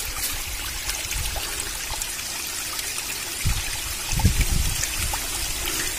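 Water trickles and dribbles through a makeshift pipe made from a leaf outdoors, a steady thin liquid patter with a few louder splashy bursts near the end, no talking.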